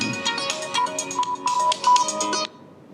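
A mobile phone ringtone plays loud and close, a bright repeating electronic melody of rapid tones for about two and a half seconds before cutting off abruptly, with no talking over it.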